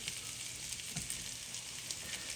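Pierogi fry in a pan with caramelized onions and bacon, giving a steady, close sizzle and hiss with faint stirring scrapes throughout.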